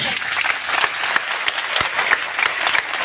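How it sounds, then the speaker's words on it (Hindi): Dense, loud applause from a crowd at a Constitution Day (Samvidhan Diwas) program in India, steady clapping throughout with a few sharper claps standing out, a voice faintly underneath. "गगनभेदी गड़गड़ाहट तालियों से अभिवादन बनता है।"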